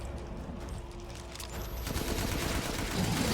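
Gunfire in the video game Resident Evil Village, a dense, continuous barrage of shots that grows slightly louder toward the end, with no talking.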